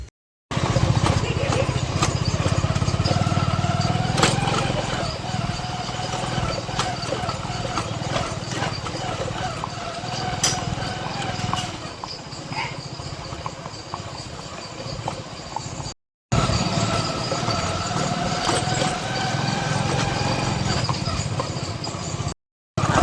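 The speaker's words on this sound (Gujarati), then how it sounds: "માહિરભાઈ નીકળી ગયા ઘોડી લઈ" Hooves of a mare named Tejal clip-clop steadily on the ground as she is ridden out, with a motor droning alongside and people talking throughout, a brief gap midway.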